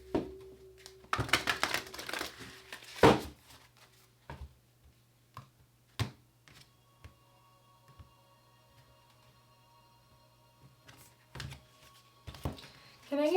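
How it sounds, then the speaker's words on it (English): Tarot cards being shuffled by hand at close range, with a few quick riffling bursts early on, then scattered soft taps and clicks over a quiet background, ending in another short flurry. "All right, one more shuffle."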